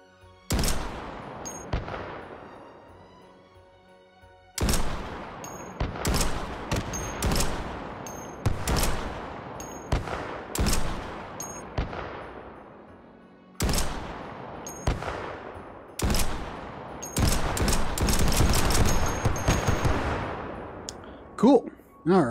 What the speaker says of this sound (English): It's an automatic grenade launcher.